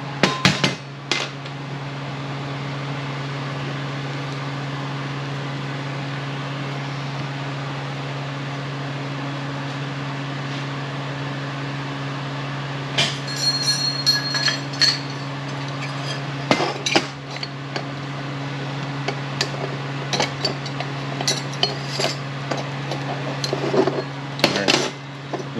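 A few sharp hammer blows land far apart while driving a part out of a 6R80 automatic transmission. A steady mechanical hum runs underneath throughout, and a cluster of strikes comes near the end.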